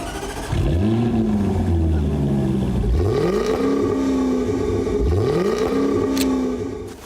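A supercharged 5.0-litre V8 in a Jaguar F-Type two-door sports car revs hard three times, each rising, swooping engine note close and loud, with a steady rumble between bursts.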